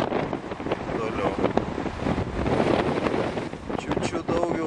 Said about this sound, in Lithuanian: Stiprus šoninis vėjas, lietus.